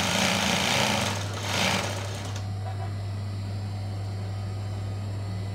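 Sewing machine stitching the sleeve of an abaya, a dense rapid whirring burst for about two seconds, then stopping and leaving a steady low electrical hum.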